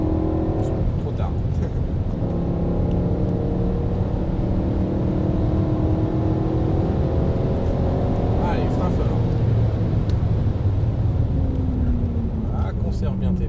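BMW M3 E92 on a race circuit, its engine droning loud and steady with rising and falling revs through corners, heard from inside the car while people talk over it.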